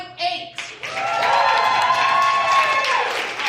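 A crowd at a poetry slam competition breaks into applause and cheering after a score is read, with a loud, sustained wash of clapping, whoops and high shouts swelling after a brief voice at the start.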